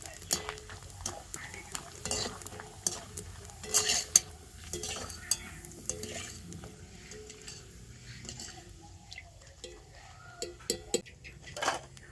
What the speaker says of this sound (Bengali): তো একইভাবে করে আমি সমস্ত চিপসগুলো ভেজে নেব